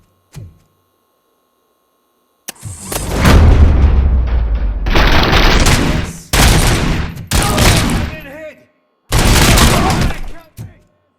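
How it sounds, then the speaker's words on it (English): Loud bursts of rapid gunfire and booming blasts in the video game RoboCop: Rogue City come in several separate volleys with brief silences between, close and harsh. "Am I hearing gunshots?"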